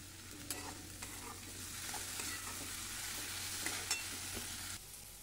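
Tomatoes with onion roasting in a pan crackle in a soft, continuous sizzle, with a spoon stirring and scraping now and then; no one talks.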